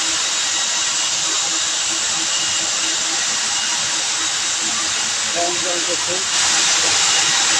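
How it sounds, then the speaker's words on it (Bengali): A circular open dial knitting machine runs with a steady, loud mechanical hiss and whir, continuous throughout, with a slight rise in intensity toward the end; a voice talks faintly over it. "open ডায় machine circular open ডায় machine"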